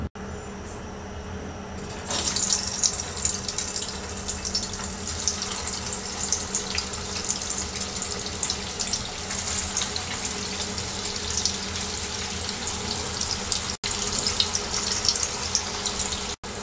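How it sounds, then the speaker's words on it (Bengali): Cauliflower kebabs slide into about one and a half cups of hot oil in a kadai over medium-low heat, giving a steady, close hiss of frying that holds throughout with no talking. "এবার আমরা মিডিয়াম লো হিটে কাবাবগুলোকে ভেজে নেব।"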